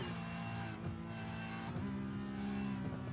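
Race car engine in the iRacing sim game at the Miami GP track, droning steadily with harmonic tones as throttle is held, then shifting pitch higher partway through, continuous and close with no talk.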